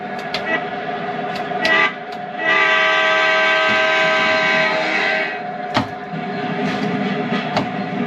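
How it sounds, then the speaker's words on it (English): A heritage locomotive at the National Railway Museum sounds a long, loud horn blast that holds for about three seconds, with clunks and mechanical knocks from the cab before and after. "I am driving a train."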